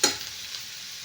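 Food sautéed and stirred in a pan while making a chutney-style pickle, with a brief sizzling burst at the start that fades to a steady soft hiss, no voices.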